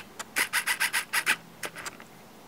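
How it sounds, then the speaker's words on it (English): Rasping file strokes on the edges of a KTuned throttle body, about ten quick back-and-forth scrapes in a steady rhythm with a short pause, close and fairly loud with no talk. "File down the edges just a bit and use some sandpaper to smooth it out."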